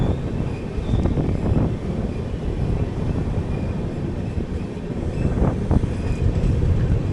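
Garib Rath Express train running into Dhone station in India, a steady loud rumble of wheels and carriages with brief clanks and squeals, continuous throughout with wind buffeting.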